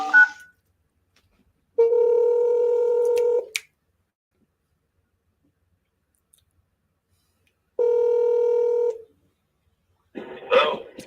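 Two long, steady electronic telephone tones sound a few seconds apart, like a number being dialed on a call to a seller. A short click comes before them and a brief rustle follows. There is no talking.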